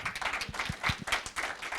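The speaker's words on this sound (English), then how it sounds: "I think you deserve a round of applause, by the way." A small audience claps for a speaker during a political discussion, a brief, moderately close patter of hands with a few sharper individual claps standing out, fairly quiet overall.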